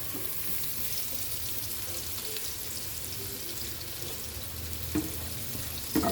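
Bhindi (okra) frying in a pan, a soft, even sizzle holding steady at low volume, with a couple of brief clinks near the end.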